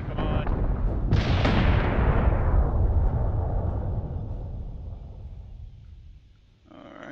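Heavy gunfire and an artillery blast in a combat video game rumble loudly, with a sharp boom trailing into a long fading roar and continuous low battle noise underneath.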